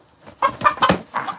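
A rooster clucks close by in a quick series of four short, loud clucks, clear and alone without talk.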